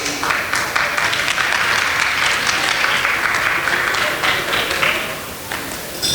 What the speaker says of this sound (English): Give it up for all the ladies, please.